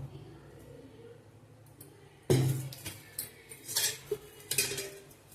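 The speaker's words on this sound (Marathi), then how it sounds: "अगोदर आपण आता कढई ठेवून घेऊ।" Kadhai (wok) set onto a stove, a sudden loud metallic clank followed by scraping and rattling clinks of metal against the burner, close by, after a quiet stretch with faint background voice.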